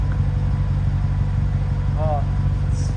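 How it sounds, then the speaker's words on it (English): Idling exhaust of a black 2014 Ford Shelby GT500 coupe with a supercharged engine and six-speed manual, a steady low rumble running throughout with a brief faint chirp near the end. "listen to that exhaust at idle."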